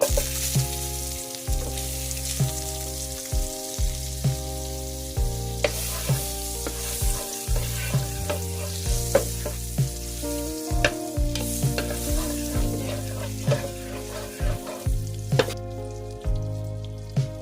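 Butter sizzling and crackling steadily in a hot frying pan before salmon goes in, a continuous close fry with occasional stirring clicks and steady tonal music underneath throughout.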